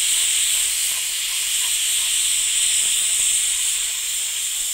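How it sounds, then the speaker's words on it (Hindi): Steam screams steadily from a pressure cooker full of black-pepper mutton curry, a loud sustained high hiss with slight wavering, continuous throughout and no voices over it. "तू जी तू खुल के मार सीटियाँ"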